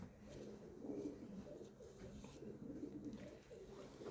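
Pigeons coo softly and repeatedly, low rolling calls close by with a faint background hum.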